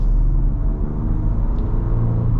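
A 2025 Ford Ranger Raptor pickup with a 405-horsepower turbocharged V6 engine gives a steady, deep rumble, close and fairly loud, holding an even level for the whole stretch with no voices over it.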